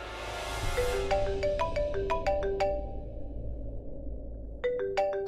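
A woman's mobile phone rings with a melodic ringtone of repeated bright tones over a steady background, pausing briefly and then starting again near the end; no one speaks.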